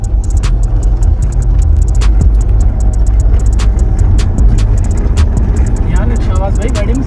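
A Toyota Fortuner being driven gives a low, steady engine rumble from inside the cabin, with scattered light clicks and rattles over it.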